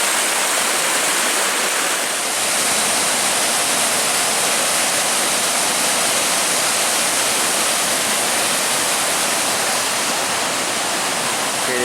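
Water pours down a smooth rock slide in a waterfall in the White Mountains near Mt Washington, a loud, steady, close rushing roar that never lets up.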